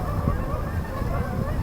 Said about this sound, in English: Migrating geese.